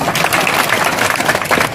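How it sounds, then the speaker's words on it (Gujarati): Crowd applause at a village political rally in Gujarat, dense continuous clapping, loud and close, with no voices over it. "ભલા માણા, તાળીઓ પાડો"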